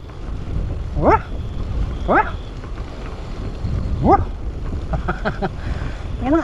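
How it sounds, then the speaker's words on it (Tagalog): A dog barks outdoors on a city street at night, four sharp barks spaced a second or two apart, heard over constant street and crowd noise with faint voices in the background. "Yan ang aso yan."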